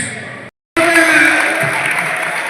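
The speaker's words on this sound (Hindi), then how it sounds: "Guest of honor, Shri Sandeep, जो तालियों से वेलकम करते हुए उनका अभिनंदन किया गया।" Loud, dense clapping from a crowd welcoming guests at a police association event in Udhampur, Jammu and Kashmir, fills the space, continuing steadily after a brief cut to silence.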